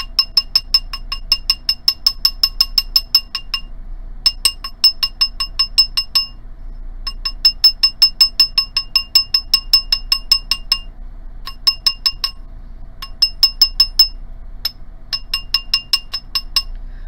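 Rapid, bright metallic tapping as a sterling silver ring is textured with the round side of a hammer, coming in quick bursts of many strikes separated by short pauses, close up with no talking.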